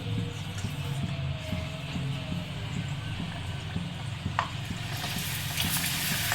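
Rice papad frying in a pan of hot oil: a steady, close sizzle and bubbling crackle that runs throughout with no talk over it.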